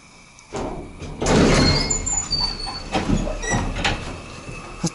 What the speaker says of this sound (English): That door sounds really bad.